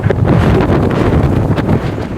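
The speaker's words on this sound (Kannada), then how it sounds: "ಗಾಳಿ ಬರ್ತಾ ಇದೆ" Strong wind blowing outdoors, buffeting the microphone with a loud, continuous low rumble and roar that fills the whole stretch without a break.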